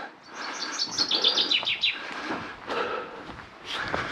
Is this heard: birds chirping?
yes